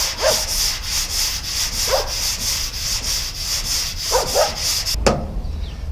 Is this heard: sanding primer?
yes